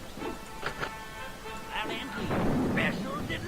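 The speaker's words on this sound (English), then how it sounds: "And then throw a firecracker." A firecracker explodes during a battle in the video game Small Soldiers: Squad Commander, giving a sharp pop over rumbling in-game booms while a voice talks over the action.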